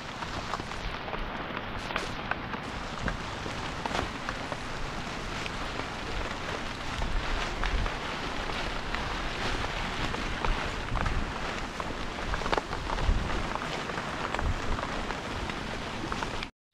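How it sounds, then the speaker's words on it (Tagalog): Steady rain pours down continuously with a dense, hissing wash and scattered heavier patters, no voices present. "Yan, anong ulan."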